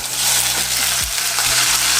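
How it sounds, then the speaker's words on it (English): Chopped tomato dropped into hot oil in a frying pan, a loud, dense sizzle hissing steadily throughout, with low scraping and stirring knocks from the pan beneath it. "So we're going to put some tomato inside of this frying pan"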